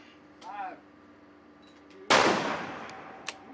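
A single sharp, loud gunshot cracks out during a shooting competition finale, with a brief echoing tail and a fainter pop moments later, after a short stretch of quiet talk.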